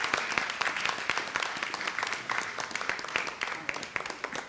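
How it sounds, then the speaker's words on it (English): Audience applause at a 40th anniversary celebration, honoring board members: dense, steady clapping from a sizable crowd, fairly loud and continuous throughout. "Give them a big round of applause for all their incredible hard work."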